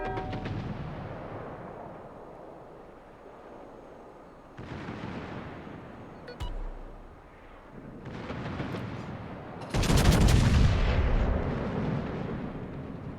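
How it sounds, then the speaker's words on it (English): Warship secondary guns firing in a naval video game, heard as a series of heavy, booming blasts with rumbling tails, growing louder and denser toward the end. "There's the manual secondaries going on now"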